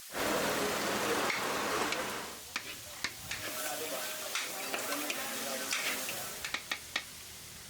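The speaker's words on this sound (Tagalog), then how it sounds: "Mula kasi sa paggisa ng bawang" Garlic and onion sautéing in a pan for a dish of beef innards: a continuous loud sizzle that eases off, then scattered clicks and scrapes of stirring in the later seconds.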